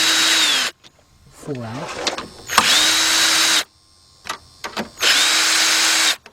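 Cordless power drill works on 7mm bolts of a 2004 Chrysler PT Cruiser, whirring loud and close in three sustained runs with short pauses, mechanical clicks and a brief spoken remark in between.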